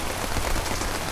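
Rain comes down steadily outdoors around a small wind turbine, a dense, even hiss of drops with no pauses.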